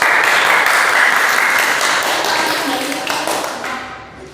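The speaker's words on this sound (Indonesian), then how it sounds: "kita beri tepuk tangan kelompok" Classroom applause for a student group after its presentation: a dense burst of clapping from many pupils, loud and close, tapering off toward the end, alone without talk.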